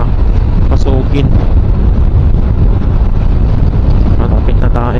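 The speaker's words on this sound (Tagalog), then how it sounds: "Napakalakas ng hangin." Strong wind in Pasuquin, Ilocos Norte, Philippines, buffets the microphone in a constant loud roar throughout, with faint voices breaking through now and then.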